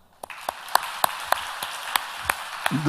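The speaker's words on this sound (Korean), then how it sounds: "이 박수 한번 해드립시다" A church congregation at a Friday prayer meeting claps, with distinct hand claps spaced irregularly across the room, sparse and moderately loud rather than a full ovation.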